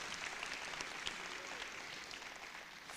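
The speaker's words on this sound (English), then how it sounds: "Please give them big applause for those who make this successful." Faint, distant applause from a conference audience at the Internet Governance Forum 2022, continuous light clapping at low volume across the whole stretch.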